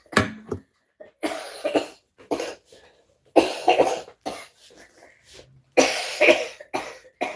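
An adult with a lingering post-flu cough hacks repeatedly, a series of close, harsh coughing bursts in irregular clusters separated by brief silences, with some throat clearing mixed in.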